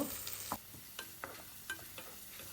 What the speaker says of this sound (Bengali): ওই তেলেই দিয়ে দিচ্ছি কুচনো পেঁয়াজ পেঁয়াজ একটু লাল করে ভেজে নেব